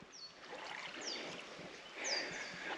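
Flagstone Creek, swollen after recent heavy rain, flowing as a steady, soft broadband wash of water, with a few faint high bird chirps above the flow.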